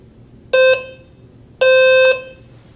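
Two loud electronic beeps from a CA360 baby sound sensor, a short one followed by a longer one about a second later, over faint background hiss.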